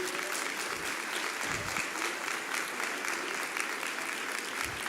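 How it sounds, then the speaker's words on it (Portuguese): A church congregation claps together in sustained, even applause, heard from a short distance and evenly loud throughout, with a few low thumps underneath. "pode aplaudir o Senhor"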